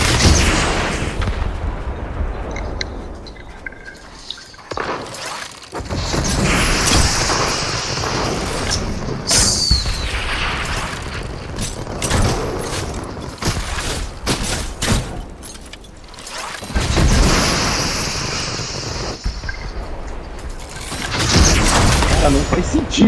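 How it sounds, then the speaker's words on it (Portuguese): Missile launcher explosions in Fortnite, with dense repeated booms and blasts rolling through a loud, continuous stretch of gameplay. Someone talks over the noise. "Essa porra dessa arma de míssel."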